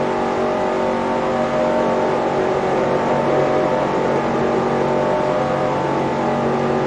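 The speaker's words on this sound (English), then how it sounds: "now it's just full throttle, running slow right now on the track." A race car in NASCAR Racing 2003 runs at full throttle, its engine holding a loud, steady, droning roar for several seconds with no talk.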